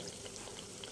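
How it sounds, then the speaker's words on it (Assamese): Nimki frying in oil over a very low flame makes a soft, steady bubbling sizzle, faint and unbroken for a brief moment with no voices. "একেবাৰে কম জুইত ভাজিছোঁ"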